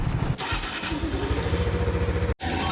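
A Honda Integra 750 motorcycle engine runs close by with a throbbing, pulsing low rumble, briefly cutting out near the end before resuming.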